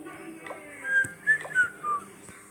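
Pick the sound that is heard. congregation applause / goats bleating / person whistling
person whistling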